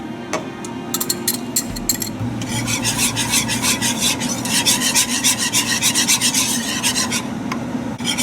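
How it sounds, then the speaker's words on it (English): Cornstarch being mixed in a bowl gives a loud continuous rasping, scraping rhythm of utensil strokes, with a few sharper scrapes at the start, close up and with no talk. "To this we'll add the cornstarch and mix it."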